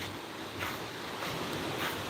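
Sea surf rolling in at Khanom beach in Nakhon Si Thammarat, Thailand, a steady broadband wash with gentle swells and some wind buffeting the microphone, heard alone.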